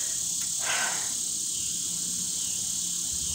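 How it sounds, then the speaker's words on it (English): Steady, high-pitched buzzing of cicadas fills the air, a continuous insect drone with a brief louder swell near the start. "cicadas."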